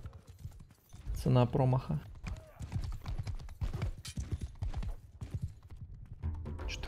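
Horse hooves pound in quick galloping beats during a cavalry fight in Mount and Blade 2: Bannerlord multiplayer, running under a voice speaking throughout.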